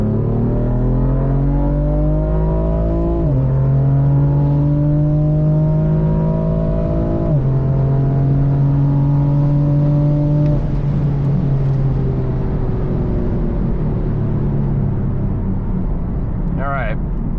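BMW M4 fitted with a new exhaust accelerating hard from 60 to 130, its engine note climbing loudly through several gears with distinct drops at each shift, continuous and close throughout.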